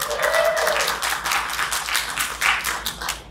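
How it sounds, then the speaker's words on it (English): Audience clapping at a cinema during a Weird Wednesday screening, a brisk patter of many hands with irregular sharper claps, close and moderately loud, briefly mixed with a voice. "Give yourselves a round of applause."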